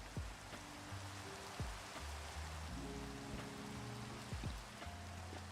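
Video game rain falls in a steady soft hiss, faint and continuous, with low tonal game music notes drifting underneath and no talking.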